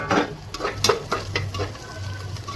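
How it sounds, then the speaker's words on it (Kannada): Onions sizzle in a pan as a utensil scrapes and stirs them in repeated strokes, close and fairly loud over a steady frying hiss. "ಈರುಳ್ಳಿ ಇವಾಗ ಬ್ರೌನ್ ಆಗ್ತಾ ಇದೆ"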